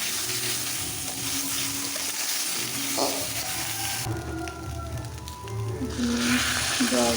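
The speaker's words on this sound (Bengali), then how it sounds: "নুন দিয়ে দিচ্ছি, এবার আমি ভালোভাবে ভেজে নিচ্ছি কচুরমুখীটাকে।" Taro frying in a pan with salt and turmeric, a continuous sizzle and occasional stirring, with a person talking over it throughout.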